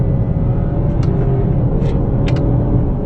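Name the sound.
Honda Accord 2018 accelerating and upshifting with paddle shifters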